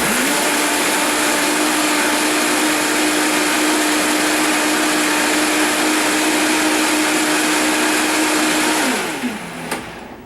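A loud, steady blender whirring on its high setting with a constant motor tone while making a smoothie, running unbroken for about nine seconds before winding down and stopping.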